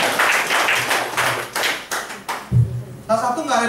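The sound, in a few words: clapping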